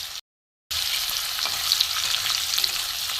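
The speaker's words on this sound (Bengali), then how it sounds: "দ্বিতীয় ব্যাচে আবার এই কটা ভেজে নেব। চিকেন আলু দুটোই সেদ্ধ হয়ে যাবে, ভাজা হয়ে যাবে" Chicken and potato pieces fry in hot oil with a loud, steady, crackling sizzle that cuts out for a moment, then resumes.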